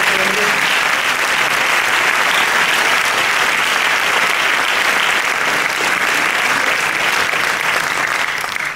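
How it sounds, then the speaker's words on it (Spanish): A gala audience at a rural tourism association event gives long, full applause, a dense and uniform roar of clapping that holds steady for several seconds before tapering slightly at the end. "voy a pedir un aplauso para Alberto Portero, que es de mi alma."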